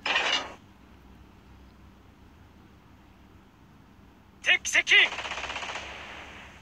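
Naval guns fire in World of Warships Blitz, a Japanese destroyer engaging an enemy cruiser: one sharp blast at the start, then three quick loud shots near the end with a trailing rumble, over a low steady game hum.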